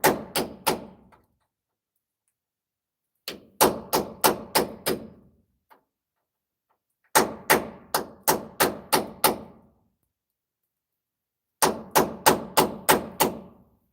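A hammer strikes metal to punch a divot, in four separate bursts of about five sharp, ringing blows each. The blows land close and loud, with silent pauses between the bursts.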